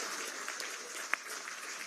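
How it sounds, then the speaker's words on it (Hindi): Steady applause fills a hall during a government appointment-letter ceremony in Ranchi led by the Chief Minister, with one sharp clap standing out midway. "तालियां जबरदस्त और जोरदार"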